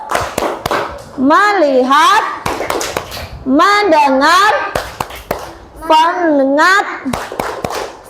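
A second-grade class in an Indonesian religious-education lesson performs the 'tepuk fokus' routine, chanting together in loud unison with tight bursts of rhythmic hand clapping between the chanted phrases.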